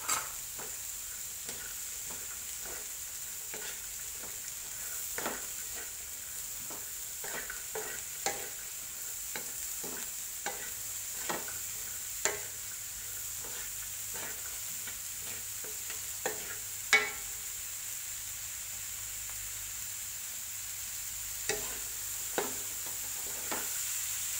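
Corn and shrimp stir-fried in a pan, a steady soft sizzle under repeated sharp scrapes and clacks of a spatula at an irregular rhythm, close up with no voices.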